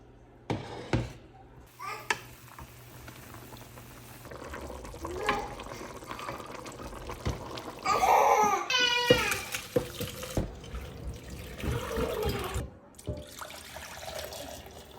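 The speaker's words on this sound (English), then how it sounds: "Now just fill it up with water until it's all submerged" Tap water runs into a pot of chicken bones to make stock, splashing and gurgling at close range amid clinks and brief handling noises, with a voice faintly in the background.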